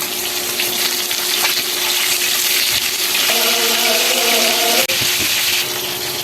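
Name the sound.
fish frying in oil in a wok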